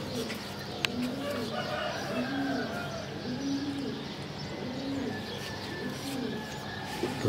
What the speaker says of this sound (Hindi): 7 कबूतर आज उड़ाएंगे हम इस छत से